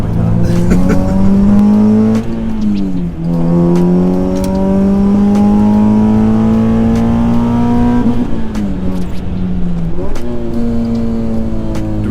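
Acura TSX fitted with a 3-inch single cat-back exhaust, non-resonated, revving hard: a loud, raspy, sustained engine note that climbs, dips twice and climbs again, close and unaccompanied by talk.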